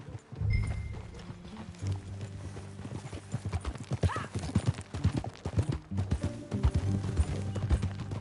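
Rhythmic clip-clop of horse hooves at a walking pace in Red Dead Redemption 2 on PS4, with a horse's whinny early on and ambient outdoor game sounds behind.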